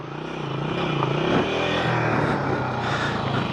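A motorbike engine on a steep mountain road toward Nanga Parbat, where the bike had got stuck, drones loud and close with a steady low rumble and slight revving, with no talk.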